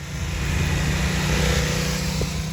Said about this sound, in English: the motorcycle is not painfully loud and instead has a subdued exhaust note